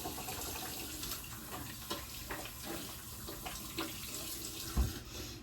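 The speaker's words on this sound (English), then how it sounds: "let me wash my face" Tap water runs steadily into a sink while someone washes their face, with small splashes and knocks over the continuous flow and no talking.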